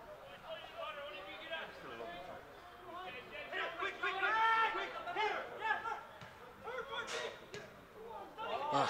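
Crowd chatter and cheering at a university football cup final, a steady murmur of many voices with louder swells of shouting across the stretch.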